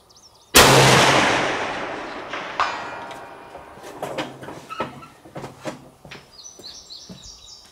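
A single loud, close rifle shot from a Swiss K31 fired at a 600-yard target cracks out and rolls away in a long fading echo, followed by scattered faint clicks and birds chirping in the background.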